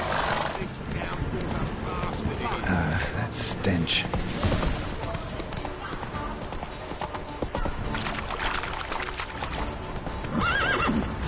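In The Witcher 3, a horse gallops with rapid, steady clip-clop hoofbeats and gives a whinny, while a voice speaks over the running hooves.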